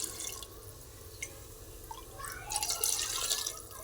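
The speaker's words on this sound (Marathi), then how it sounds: "पाणी घालायचं" Water is poured into a pot of dal khichdi, giving a soft, close trickle and splash that grows fuller toward the end.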